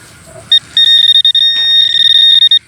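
A loud, high electronic beeping from a metal detector, a long tone broken into rapid pulses, close by and alone.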